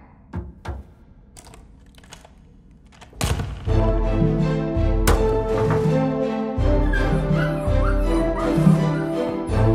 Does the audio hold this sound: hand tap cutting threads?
no